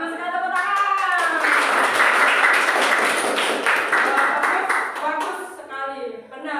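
Students in a classroom clap together in a short burst of applause, with a teacher's voice speaking before and after and over the clapping.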